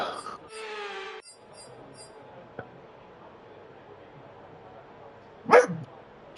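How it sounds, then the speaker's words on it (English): A dog yips and barks in a quick burst at the start, then one sharp bark lands near the end, close and fairly loud, with quiet room tone in between. "Shush, dog."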